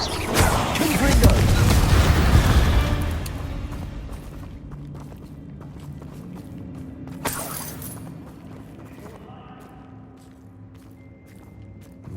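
Confringo spell explosions in the Hogwarts Legacy video game: a loud, booming blast with shattering debris dominates the first three seconds, then fades into rumbling ambience with a sharper crack midway and quieter combat sounds after.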